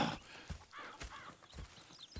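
Horse hooves clip-clop softly at a walk in Red Dead Redemption 2, with a faint whinny among the steps and some low background ambience, fairly quiet overall.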